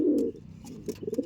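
A pair of pigeons coo in their personal room, a loud low cooing call at the start followed by softer, broken coos and short bursts of calling.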